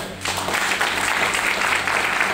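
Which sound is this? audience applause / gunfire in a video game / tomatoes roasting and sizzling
audience applause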